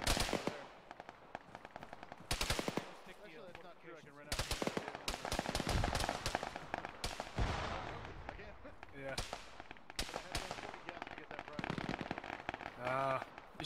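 Gunfire in the military video game Arma during a ShackTac session: loud bursts of rapid automatic fire and single shots, some close and some farther off, repeated throughout with brief pauses, while voices talk over the radio.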